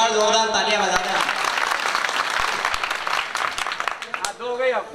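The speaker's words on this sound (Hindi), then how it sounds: "एक बार जोरदार तालियां बजाते हैं" Audience clapping at a Hindi kavi sammelan poetry gathering, a broad wash of applause under and after an announcer's voice, with speech resuming near the end.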